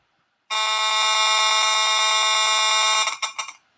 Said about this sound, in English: a cell phone